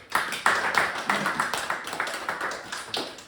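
A small gathering claps together in a steady rhythm of distinct, fairly close hand claps, with some voices murmuring underneath.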